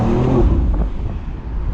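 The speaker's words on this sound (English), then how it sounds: "The sound it makes when it shifts, that's sick" A 2022 BMW X3 M Competition engine revs loud and close, then the note breaks and drops as it shifts gears, with a steady rumble carrying on afterward.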